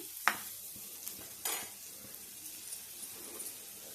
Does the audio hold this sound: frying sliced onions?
yes